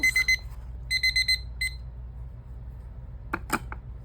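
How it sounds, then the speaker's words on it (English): A kitchen timer alarm goes off in short bursts of bright electronic beeping, a few quick groups near the start, then a pause and a couple of sharper clicks or beeps at the end, with a low room hum underneath. "My timer's going off."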